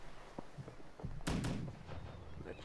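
Cannons fire in the naval combat video game Blackwake, two sharp booming blasts close together, followed by faint muffled game noise.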